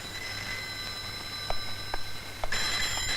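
A telephone at a police station rings in short, bright bursts, fairly close, with no voices over it.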